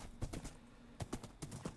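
Horse hooves clip-clopping in a video game: a few quick, close, crisp hoof knocks come in small groups of two or three with short gaps between them.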